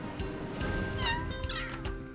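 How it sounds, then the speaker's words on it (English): Two kittens shut in a box give several thin, high meows close by, with soft rustling between the calls. "You can't just stick two kittens in a box with no air holes."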